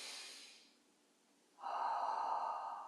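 A single deep inhale during a guided breathing exercise, close and clear: an airy breath fades out, a short pause follows, then a fuller, steady draw of air.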